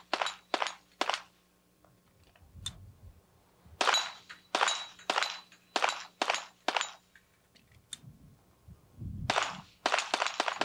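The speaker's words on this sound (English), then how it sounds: "Robbie Latham up on the precision shooting." Sharp gunshots ring out in quick bursts at a 1994 sportsman's team precision shooting event, crisp and loud with short pauses between strings and faint handling thumps in the gaps.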